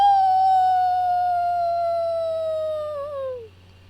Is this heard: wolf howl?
yes